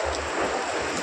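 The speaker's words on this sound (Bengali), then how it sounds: "প্রচণ্ড বৃষ্টি।" Heavy rain pouring down during the evening commute, a dense steady hiss of rainfall with low rumbling underneath, continuous and close for the whole second, with no voices.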